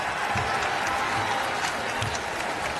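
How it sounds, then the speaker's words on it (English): Steady, dense applause from a large crowd of South Carolina fans fills an arena after a women's college basketball win over TCU, continuous and loud, with a broad roar of clapping and cheering throughout. "the Gamecock fans on their feet applauding"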